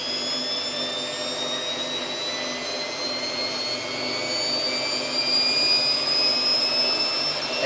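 A Samsung WF8804RPA washing machine in its spin cycle gives off a continuous loud whine and whoosh that climbs gradually in pitch as the drum speeds up.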